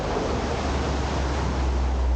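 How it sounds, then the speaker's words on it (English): A river rushes through a cavern far below on Tryfan, making a constant, broad roar like wind or surf that stays even from start to finish. "that sounds like a nice kind of cavernous river down there"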